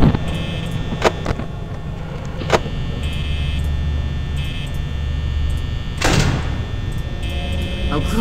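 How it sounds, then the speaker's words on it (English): Security doors closing in the video game Five Nights at Freddy's, a few short mechanical clunks and one louder whooshing slam over a steady electrical hum, with a voice talking intermittently. "Closing the doors."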